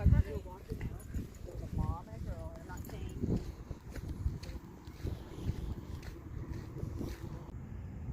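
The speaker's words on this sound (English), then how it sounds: "You can ride your horses here." Horse hooves clip-clop along an outdoor trail by a bay, an uneven thudding rhythm mixed with wind noise and people talking nearby.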